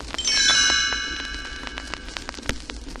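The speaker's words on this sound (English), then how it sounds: "you hear the chimes ring like this" A single bright chime rings out with a shimmering, sustained tone that slowly fades, followed by faint scattered clicks.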